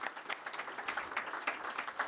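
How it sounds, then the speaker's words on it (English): Audience applause at a candidates' forum for a Moncton-Dieppe and Beauséjour/Fundy Royal election event, steady scattered clapping from a moderately distant crowd with no talk over it. "A round of applause for all of them sticking to the time"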